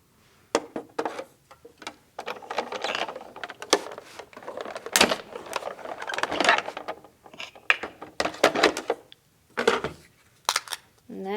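Die cutting cardstock with a round double stitch die, a run of sharp mechanical clicks and clatters in irregular bursts, close and fairly loud, with quiet gaps between.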